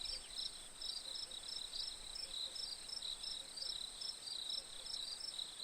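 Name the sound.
crickets chirping at a lake at night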